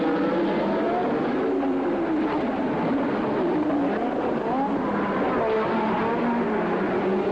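1983 Formula 1 turbo race cars scream around the Detroit street circuit, a steady, somewhat distant engine whine with rising and falling pitch sweeps over a constant roar of crowd and ambience.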